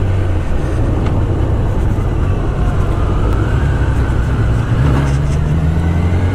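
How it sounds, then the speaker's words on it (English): A Kawasaki ZX10R 1000cc sport motorcycle engine drones loudly and close by with a deep, steady rumble. Its pitch rises slightly as it is revved. "We'll see if I actually get to rev it up a bit."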